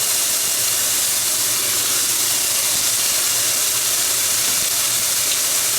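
Bacon fries in a pan with a loud, continuous hissing sizzle that stays steady and close throughout, with no talking.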